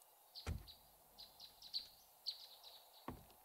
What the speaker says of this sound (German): Ich habe einen Vogel gehört.